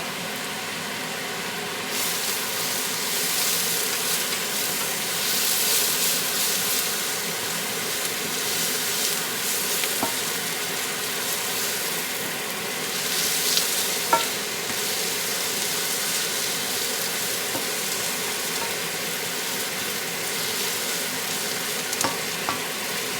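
Flour being stirred into a sizzling shrimp etouffee base in a pan: a steady frying hiss runs throughout, with a spoon scraping and knocking now and then, close and continuous, with no talking.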